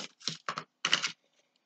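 Close, crisp cutting of a folded paper circle for a scrapbook mini album, heard as a few short snipping bursts with brief pauses between, then quiet.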